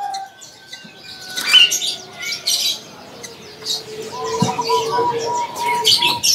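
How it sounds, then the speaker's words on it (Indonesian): Local zebra doves at a bird market give soft chirps and calls, with a brief flutter of wings. Market voices and bustle sit in the background. "Ada juga burung perkutut lokal ya."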